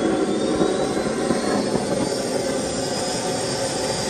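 A Jakadofsky Pro Edition model jet turbine starting up, a loud, steady roaring rush with a thin high whine running through it, continuous and close, with no voices.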